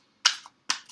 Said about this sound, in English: Not my favorite cards to shuffle